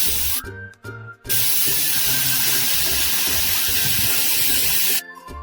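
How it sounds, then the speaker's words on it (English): CO2 gas blasting out of an iGulu F1 cylinder through an open pressure relief valve, a loud, close, broadband hiss that sputters twice before settling into a sustained rush and then cutting off abruptly. "the gas will be ejected quickly and in large quantities"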